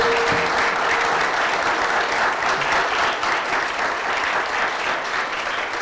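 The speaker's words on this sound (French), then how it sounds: "On peut les applaudir." A conference audience applauds after a round-table panel, with dense, sustained clapping from many hands that stays loud and even for several seconds before easing slightly, with no speech over it.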